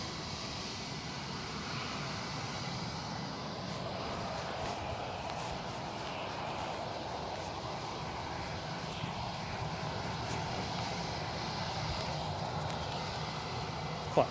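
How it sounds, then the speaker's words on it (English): A Ryanair jet takes off from Edinburgh Airport bound for Alicante, its engines a steady, broad, distant roar that holds at a low level throughout. "So this Ryanair is off to Alicante."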